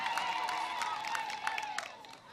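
An outdoor crowd at a Kenyan public gathering claps and cheers in a steady wash of applause, with shrill whistle tones running through it at moderate distance.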